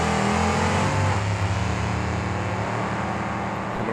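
Monster trucks Snowcat and Airborne Assault launch off the start line at a Minneapolis arena event, engines roaring loud and steady with a revving, sustained drone.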